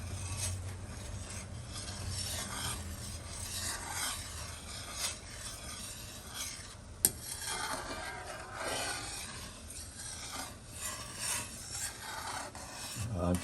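Biko sticky rice being stirred with brown sugar in a pot, giving a continuous rasping scrape with steady rubbing strokes throughout, plus one sharp knock midway.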